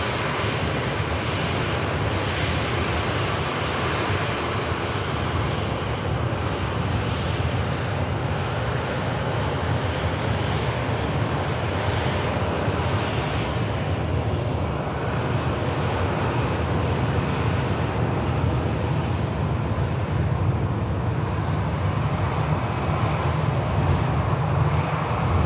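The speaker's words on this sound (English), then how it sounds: "the beautiful Egypt Air is now on the taxi out as well" EgyptAir airliner taxiing out at Manchester Airport, a steady loud jet engine roar with broad rushing noise holding level throughout, heard from a distance outdoors without talking.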